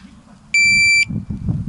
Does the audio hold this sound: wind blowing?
no